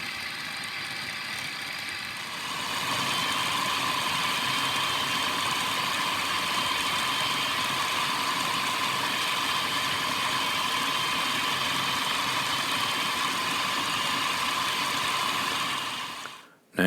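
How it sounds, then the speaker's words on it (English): Food processor whizzing black beans and light vegetable fat into a smooth paste, starting after a quiet moment and running as a steady, even motor whir for most of the clip before stopping abruptly. "Put it into our food processor, and we now whiz this around until we get a smooth paste"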